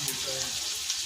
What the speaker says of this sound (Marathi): आता कांदा टमाटा आपण थोडा लालसर पद्धतीने भाजून घेऊया